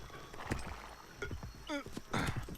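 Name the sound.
horse-drawn cart stopping, hooves clip-clopping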